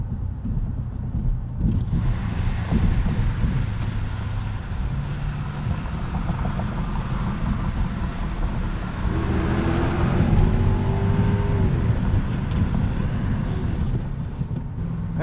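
A 1998 Lexus GS 400 on the road, its engine droning steadily under continuous tire and wind roar, the tone swelling slightly midway as it accelerates.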